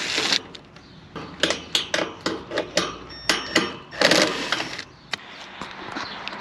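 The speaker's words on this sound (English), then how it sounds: "now that we remove all the screws" Screws being backed out of an air conditioner condenser's protective grill panels with a 90-degree screwdriver, a run of close, sharp metallic clicks and ratcheting taps in irregular bursts, fairly loud, with no talking.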